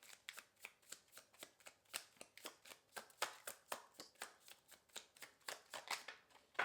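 A deck of tarot cards is shuffled in quick, rhythmic riffling bursts, dozens of crisp close-up flutters repeating steadily for several seconds, quiet and alone without any voices.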